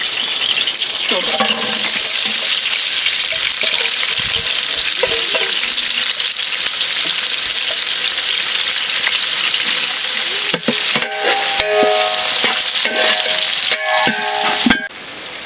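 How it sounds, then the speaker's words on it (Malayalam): Onions with green chillies sizzle and fry in oil for a Palakkad-style Ravuther biryani, a steady loud crackle throughout, with scraping stirs growing more frequent and clattery toward the end. "ഉള്ളി വതങ്ങി വന്നിട്ടുണ്ട്"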